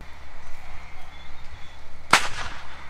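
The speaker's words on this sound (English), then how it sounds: "That gunshot you heard was the actual weak point, which was a strap, a 1-ton strap." A 1-ton sling strap snaps under winch cable tension of roughly 4 tons, giving a single sharp, loud, gunshot-like crack with a short ringing tail after a stretch of quiet, steady mechanical hum.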